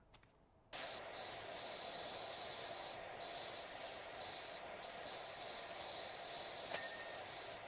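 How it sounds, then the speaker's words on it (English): Steady broadband hiss of a pressure washer hose spraying in the PowerWash Simulator 2 video game, starting after a brief quiet moment and running loud and continuous with a few short dips. "Mostly hear the hose, you know."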